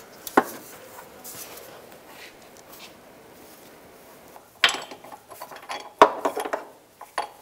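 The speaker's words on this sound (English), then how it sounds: "Use a 15 millimeter socket. Just gonna get them all loose first." A 15 mm socket loosens the transmission mount bolts on a 2010-2017 Chevrolet Equinox. A few sharp metallic clanks and light ratcheting clicks stand out over a quiet background.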